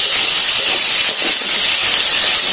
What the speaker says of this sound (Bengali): এবার কেটে রাখা কাঁচা লঙ্কা টমেটো দিয়ে একটু ভাজবো